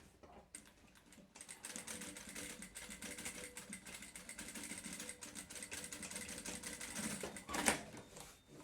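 A sewing machine stitches a half ring onto a fabric lunch bag, running in a fast, even mechanical rattle for several seconds at close range with no talk.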